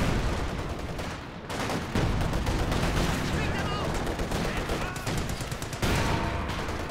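Heavy gunfire and artillery barrage in the video game Company of Heroes 2, with dense continuous rattling shots and booming blasts filling the mix, loud and sustained, and someone talking over it.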